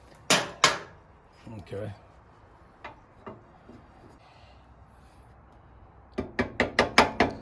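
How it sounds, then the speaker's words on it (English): A soft-compound rubber mallet taps a part on an Indian Challenger motorcycle during a Z ring replacement: a couple of sharp knocks, scattered lighter taps and rubbing, then a quick run of six or seven firm blows, with a brief spoken word. "This is a rubber mallet. It's a soft compound."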